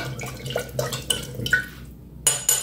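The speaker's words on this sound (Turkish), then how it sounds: "Süzüyoruz suyunu." Brine drains from a container of olives, with trickling water and light clinks of glass or a pot, irregular close drips and a few sharper taps near the end, no talking.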